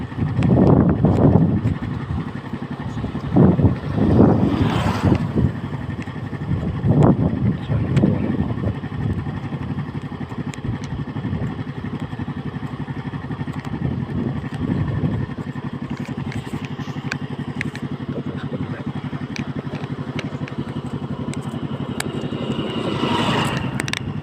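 Heavy wind buffets the microphone on a moving motorcycle, a loud roaring rumble with gusty surges and thumps, the engine droning underneath throughout.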